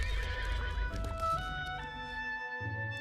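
A horse whinnies loudly and long, its neigh rising then falling in pitch, with hooves clip-clopping close by at the start; no talking.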